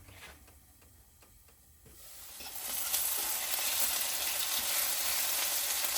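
Buttercup squash is stirred in a pan, with quiet ticking clicks at first, then a sizzle that swells to a loud, steady frying hiss lasting several seconds.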